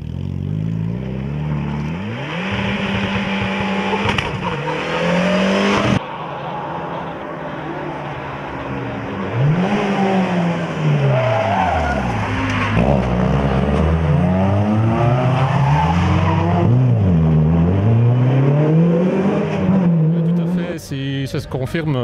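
Rally cars racing at the 2014 Rallye de Mettet, engines loud and close as they rev hard, rise and fall through gear changes and sweep past in continuous waves of acceleration.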